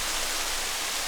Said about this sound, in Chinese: 然后后面又有瀑布的声音